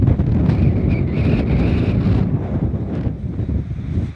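Strong wind gusts across an outdoor residential lot, roaring and buffeting the microphone loudly and continuously, with no voices.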